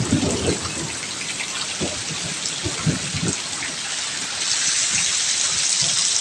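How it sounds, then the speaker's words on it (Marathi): Heavy monsoon rain pouring down in a Konkan village, a dense continuous hiss that grows slightly louder toward the end, with faint low rumbles beneath and no talk. "आमच्या कळसुलीत पाऊस लागतो"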